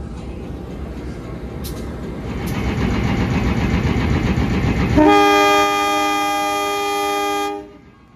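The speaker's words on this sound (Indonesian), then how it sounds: "Perjalanan kereta api Bogowonto tiba di pemberhentian kedua di stasiun Wates" Bogowonto economy passenger train at Wates station, a loud rumbling diesel engine building up, then a sustained multi-tone train horn blast for a few seconds before it cuts off.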